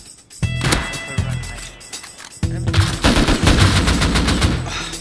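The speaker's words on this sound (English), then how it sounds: "did you just shoot me in the back of the fucking head" Video game gunfire: a short early shot, then sustained rapid automatic bursts, loud and close, with no talking.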